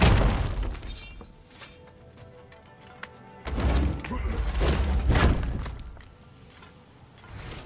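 In God of War Ragnarok, a chisel breaks through an obstacle with a loud shattering crash and crumbling debris, followed by a second heavy burst of breaking, with scattered smaller cracks and thuds between.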